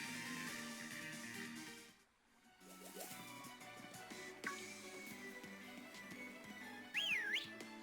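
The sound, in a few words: whistling in the video game Pokemon Shield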